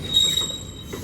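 A CSX freight train rolls past on the rails, a brief burst of close, shrill wheel squeal over low rumbling clatter.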